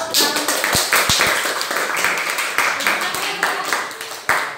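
Hands clapping in a steady rapid patter, close and lively, in a classroom maths lesson, with a voice speaking in Indonesian over the claps.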